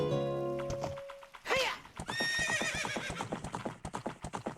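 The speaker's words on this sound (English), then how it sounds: "Get back on the horse and go." A horse in The Legend of Zelda: Ocarina of Time lets out a loud, bright whinny, then its hooves clip-clop in a quick, steady galloping rhythm that grows more insistent, with game music tones early on.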